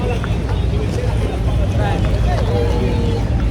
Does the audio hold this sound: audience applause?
no